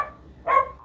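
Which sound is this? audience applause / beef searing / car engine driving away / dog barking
dog barking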